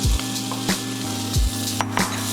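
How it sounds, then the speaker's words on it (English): Dried shrimp crackle and sizzle in hot olive oil with onions, a steady close hiss broken by several sharp pops and thuds of stirring in the pan. "So in goes the dried shrimp."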